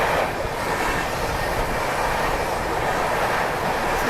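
A passenger train runs at speed on the Jabalpur–Delhi line, overtaking another train, with a steady loud rumble and rushing wheel noise heard continuously from inside the moving coach.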